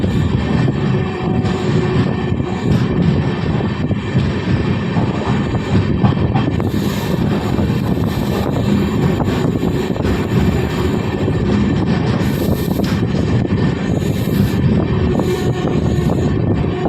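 A continuous loud rumble and roar of an LHB-coach express train rolling through Yelamanchili railway station without stopping, with wind buffeting and occasional higher rattles and squeals, steady throughout.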